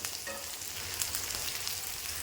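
Small shallots and garlic fry in hot oil in a pan, a soft continuous sizzle with faint crackles and an occasional stir, close and fairly quiet with no talking.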